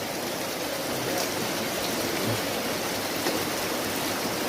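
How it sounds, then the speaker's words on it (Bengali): Heavy rain falling steadily in Khulna, a dense, even hiss of downpour with no breaks, close and continuous throughout. "অনেক বৃষ্টি হচ্ছে খুলনাতে।"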